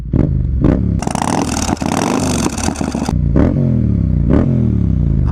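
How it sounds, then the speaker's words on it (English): A Yamaha MT-07 motorcycle engine loping at low revs with short throttle blips, plus a harsher burst of revving in the middle. "this sounds like a Harley, man, a little bit. Like at the lower revs"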